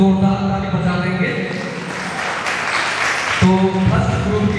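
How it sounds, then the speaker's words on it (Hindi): A crowd claps loudly at a Youth Bible festival quiz held in a hall, rewarding a correct answer; a burst of applause rises in the middle, with voices or amplified sound before and after. "जोरदार ताली बजा देंगे"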